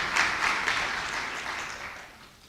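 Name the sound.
congregation applause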